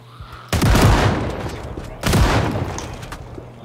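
Two loud shotgun blasts ring out about a second and a half apart in the zombie-survival game Project Zomboid. Each is a sharp, close boom with a long, ragged decay.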